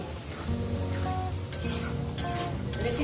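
Green chillies and tomatoes sauté together in a pan for a vegetable soybean curry, a close, soft sizzle with occasional stirring scrapes running steadily throughout.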